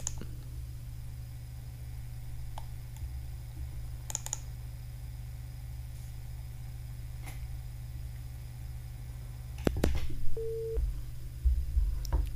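A telephone line connects to a caller on a live All India Radio phone-in from Jhalawar: a steady low line hum with scattered faint clicks, a burst of crackle, then a short electronic tone near the end.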